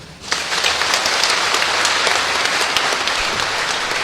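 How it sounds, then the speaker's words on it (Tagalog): A church congregation at a Quiapo Church mass for Jesus Nazareno breaks into loud, dense applause that starts abruptly and holds steady, filling the space without speech. "Ayan, napakalakas ng palakpak."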